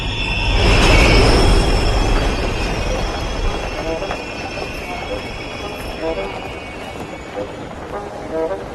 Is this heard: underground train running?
yes